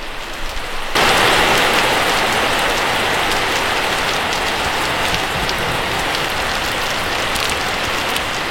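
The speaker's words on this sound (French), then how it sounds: "parce que là il pleut de ouf, c'est une dinguerie" Heavy tropical rain in Siem Reap bursts on after a second of quiet and then pours down loudly and steadily, a dense, unbroken hiss of water hitting surfaces.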